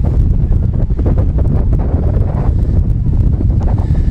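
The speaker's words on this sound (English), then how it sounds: "wind really coming in from the crew's starboard side now" Strong wind buffets the microphone at a collegiate eights rowing race, a constant loud low rumble with gusty swells throughout and no clear voices.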